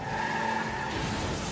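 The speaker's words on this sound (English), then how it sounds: "Car wreck." Car tires screech in a brief, harsh skid during a movie car wreck, a loud squeal that fades quickly with no crash impact following.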